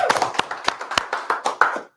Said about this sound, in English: That also deserves a clap